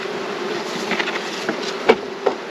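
Honey bees buzzing around an open hive box while a new swarm is checked: a steady close drone with individual bees zipping past the microphone in brief louder buzzes, no talking.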